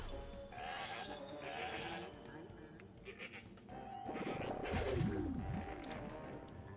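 Goat bleating in the card game PvZ Heroes, a loud wavering bleat rising near the end over game effects, with a voice talking earlier in the clip.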